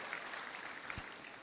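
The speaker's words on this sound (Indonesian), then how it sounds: "Tepuk tangan sama Tuhan Yesus, amin." A church congregation claps together in steady, dense applause that fills the whole moment, with no voices rising above it.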